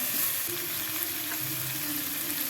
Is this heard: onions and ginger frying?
yes